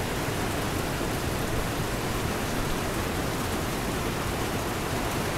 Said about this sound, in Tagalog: Marinig niyo yung ingay ng ulan sa bubong.